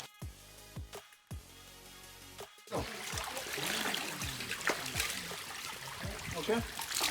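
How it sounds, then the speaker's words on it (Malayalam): Water trickling down between rocks at a stream beside an orange farm, a steady close wash of running water that begins after a few seconds of quieter sound with brief knocks. "വെള്ളം കിനിഞ്ഞിറങ്ങാണ് പാറിൻ്റെ ഇടയിൽ കൂടെ."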